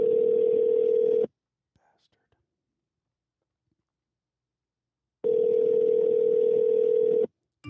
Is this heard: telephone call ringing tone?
yes